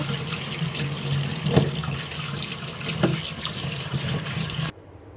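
Kharkol leaf stalks are rinsed under a running kitchen tap, a steady close gush of water with occasional splashes and handling knocks, then the flow stops.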